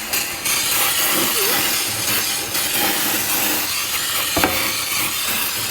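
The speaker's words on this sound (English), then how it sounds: "Now is the perfect time to throw some brake cleaner in there, clean everything off, make it all nice and clean before you pull it out." Brake cleaner is sprayed from an aerosol can onto a rear axle assembly, giving a loud, steady, broadband hiss that runs the whole length with only slight dips and one sharp tick near the end.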